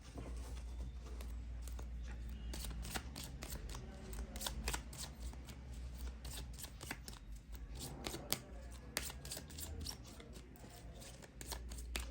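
A mini deck of reading cards is shuffled by hand, giving a steady run of soft riffling flicks and taps close by, with no talk over it.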